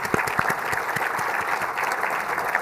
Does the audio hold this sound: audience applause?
yes